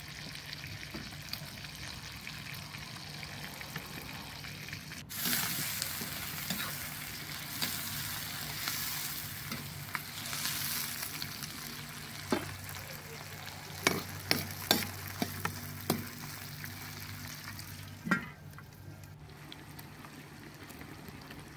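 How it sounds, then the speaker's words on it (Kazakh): Onions frying in hot oil for Tashkent plov, a quiet sizzle that jumps louder after a few seconds, with repeated stirring scrapes and knocks of the utensil against the pot later on. "Үстінен пияз салып қызарғанша қуырамыз."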